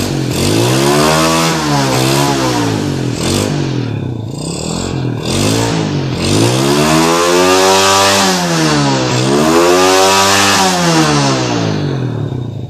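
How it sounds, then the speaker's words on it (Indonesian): A Yamaha Jupiter Z motorcycle, just repaired for sputtering and stalling under throttle, starts and revs up and down repeatedly in loud, close, steady engine sweeps with no talking. "Setelah pemasangan selesai, kita akan coba menyalakan motor Jupiter ini, apakah sudah normal atau masih sulit."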